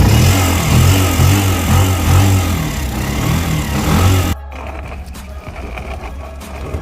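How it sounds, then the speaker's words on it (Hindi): A motorcycle engine runs loud and close at a steady mid-pitched throb as the bike is ridden through water, then drops abruptly to a quieter, rougher idle partway through. "अब मैं बाइक को स्टार्ट कर लेता हूँ"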